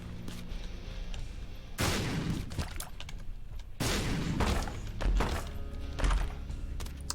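Shots firing in the video game Binding of Isaac Repentance: repeated soft thumping bursts in fairly close succession over a dense, busy game soundtrack, with no talk.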